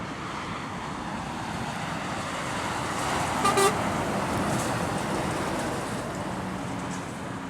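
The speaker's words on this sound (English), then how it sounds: "First livestock truck or cattle float." A large livestock truck rumbles past on a road, the broadband roar swelling and fading, with a brief horn toot midway.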